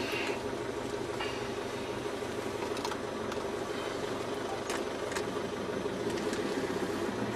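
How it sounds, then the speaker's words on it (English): A Land Rover with a slightly noisy differential while shifting down through the gearbox, a continuous rumbling whine of drivetrain and road noise from inside the vehicle, steady and fairly loud. "the little bit of a noisy diff as I'm coming down through the gearbox"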